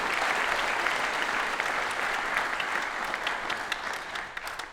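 An audience at a high school concert band winter concert claps steadily for the students, a dense sustained round of applause filling the hall without pause.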